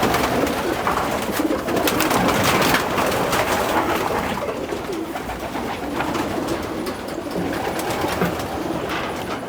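Racing pigeons fill a breeder loft with dense, continuous cooing and rustling, many birds overlapping at close range with a steady, busy wash of sound throughout.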